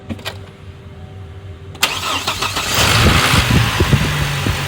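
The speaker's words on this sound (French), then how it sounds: "On va démarrer le véhicule." A car engine cranks and catches after a short pause, then settles into a steady idle close by, with no talking.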